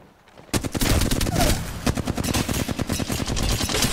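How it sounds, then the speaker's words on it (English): Gunfire in the battle royale game Apex Legends, a sudden burst of rapid automatic shots followed by continued bursts of fire, loud and close with no talk over it. "Oh, they're shooting."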